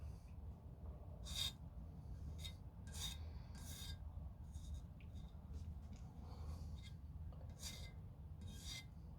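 A brush spreads lubricant along the runs of parts from an ASG Scorpion EVO airsoft gun, making faint, soft scratchy strokes in short separate bursts over a low background hum, with no talking.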